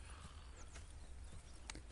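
Horses in the video game Red Dead Redemption 2: a couple of crisp hoof clops with a brief snort, quiet and close over a low ambient bed, no talk.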